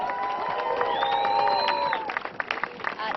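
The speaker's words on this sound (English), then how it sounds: "Give another round of applause." Rally crowd at a gathering marking the second anniversary of the January 6 Capitol attack cheers and applauds, a dense sustained roar with whoops and whistles that thins into scattered clapping toward the end.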